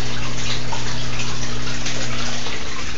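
Water pours steadily through a homemade spin filter built from a plastic water bottle, a continuous close rushing and splashing wash with a low hum beneath, running unbroken with no talking.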